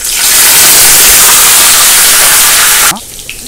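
Banana flower (vazhaipoo) pieces frying in hot oil give a loud, steady sizzling hiss for nearly three seconds, then drop suddenly to a quieter background.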